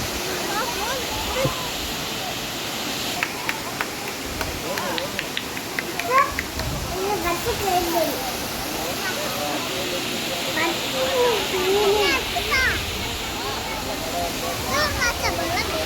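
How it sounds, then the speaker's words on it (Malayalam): The Meenmutty waterfall in Kerala, a small waterfall, rushes steadily without pause, a dense hiss of splashing water, with voices faintly audible beneath it. "ചെറിയൊരു വെള്ളച്ചാട്ടമുള്ളൂ, എന്നാലും സൂപ്പറാണ്"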